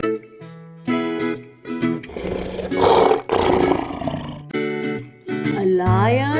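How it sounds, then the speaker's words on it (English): A lion roars loudly and close, a deep rumbling roar building in the middle, mixed with layered tonal music and other animal-like calls around it. "What sound does a lion make?"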